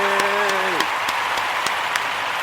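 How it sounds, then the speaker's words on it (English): An audience applauds at a Kujichagulia day celebration, dense steady clapping with a few sharper claps standing out, while a sustained musical tone fades out early. "I want to give you a round of applause"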